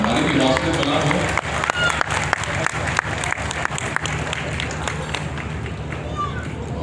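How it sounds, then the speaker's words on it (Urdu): Applause from the audience at an iftar dinner at SKMH, a dense crowd clapping with sharp individual claps standing out, steady for several seconds with a murmur of people beneath. "سب کے لیے بشمول اپنی تالیاں بہت ساری بجا دیجیے"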